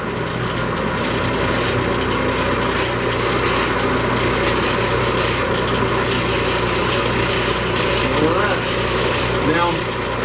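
A wood lathe spins while a 1-inch Forstner bit bores into end grain, making a continuous grinding hum with scraping texture underneath.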